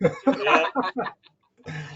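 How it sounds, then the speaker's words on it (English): A short burst of coughing in several rough bursts, close and fairly loud, followed by a pause and one more cough-like burst. "I'm coughing"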